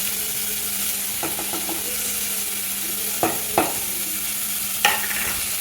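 Turmeric and pepper being stirred into broccoli in a hot pan: a steady broadband sizzle throughout, broken by a few sharp clacks of the spoon against the pan, with no talking.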